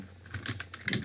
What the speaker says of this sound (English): I'll simply type the same thing